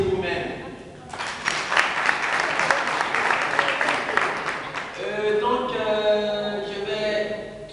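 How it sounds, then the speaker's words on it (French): Applause from an audience at a political party meeting in Casablanca, swelling after a brief spoken line and then fading as a voice begins speaking over the dying claps. "Applaudissez vous-même."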